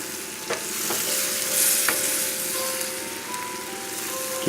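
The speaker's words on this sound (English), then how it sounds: "Just keep on turning them." Head-on shrimps fry in a pan for Cajun/Creole barbecue shrimp, a continuous close hiss of sizzling broken by a few soft knocks and scrapes as they are turned.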